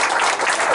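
A winery audience at an evening media event claps in a brief, dense burst of applause that sounds fairly loud and close.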